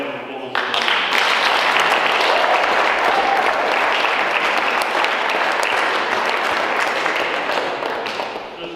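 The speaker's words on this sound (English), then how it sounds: "So a round of applause." Wedding guests break into sustained, loud applause at a ceremony and speeches, a dense wash of clapping that starts abruptly and holds steady for several seconds, with faint voices mixed in.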